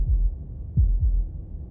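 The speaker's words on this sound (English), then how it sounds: "That was the sound of a heartbeat" Heartbeat in the video game Slay the Princess: three deep, muffled thuds, the last two close together like a double beat, over a low hum with no talking.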